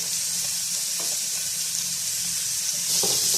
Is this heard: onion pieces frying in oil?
yes